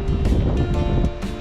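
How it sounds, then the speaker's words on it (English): Gusty wind buffets the microphone high up beside Lincoln's cathedral, loud rumbling surges that rise and fall in quick bursts, with no one speaking. "It's a bit windy up here."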